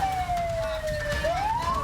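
An ambulance siren wails continuously on a road blocked by trucks, its pitch sliding down and then climbing again, loud and close over a dense rumble of traffic.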